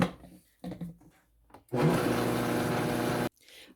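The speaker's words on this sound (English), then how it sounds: "And I'm just going to reblend that." A blender reblends a vegan cheese mixture with a pinch of Himalayan crystal salt, running in one loud, steady whirring burst of about a second and a half, preceded by quieter clattering and handling sounds and followed by a brief soft rustle.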